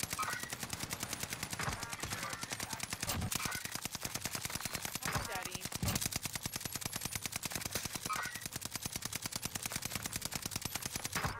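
Rapid automatic gunfire from an STG and a Marco-5 in Warzone rattles on in dense, fast bursts almost without a break, with a few heavier cracks mixed in.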